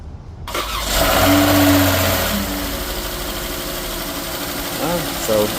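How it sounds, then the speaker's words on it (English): Replacement 3.6 engine in a 2017 Dodge Charger cranks and fires for its first start, catching quickly and settling into a steady idle nearby, with people talking in the background. "the engine did go ahead and start anyway"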